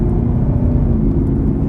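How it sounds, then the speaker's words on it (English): A 2022 Camaro SS 1LE with an automatic transmission downshifting under braking gives a steady low engine rumble and drivetrain whir, heard from inside the car with no talking. "Let me see if I brake here. So it's not as aggressive as downshifting when you brake."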